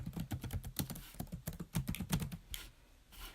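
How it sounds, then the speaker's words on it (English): Fingers type on a computer keyboard in quick, uneven runs of close, crisp clicks. The keystrokes pause briefly, then a few softer taps follow, all fairly quiet and with no talking. "I'll go ahead and type in my first and last name."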